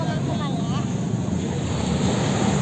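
Surf at Anyer beach, a steady broadband wash of waves with wind buffeting the microphone, continuous and fairly loud, with children faintly audible at play in the background.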